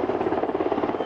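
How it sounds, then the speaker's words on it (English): A helicopter touches down in Work County for a soldier's homecoming, its rotor blades thumping in a fast, steady chop, loud and close throughout. "The chopper is touching down in Work County."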